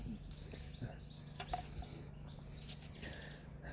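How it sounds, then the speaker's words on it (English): Goldfinch singing in a back garden in spring, a faint high twittering off in the background over low steady hum and outdoor ambience. "You can hear the goldfinch in the background."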